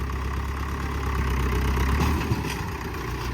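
A steady low tractor engine drone idles continuously nearby, rumbling evenly without revving.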